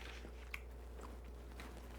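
Close, faint chewing and biting on a turkey wing: a few soft wet squishes and small crunches over a steady low hum, with no talking.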